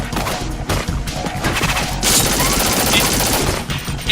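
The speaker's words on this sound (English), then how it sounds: "M4 is pretty good. It's a machine gun." An M4 machine gun firing in the video game Vamp, the Vampiric Eviscerator: loud, rapid, continuous bursts of automatic fire with sharp cracks and a few heavier impacts mixed in.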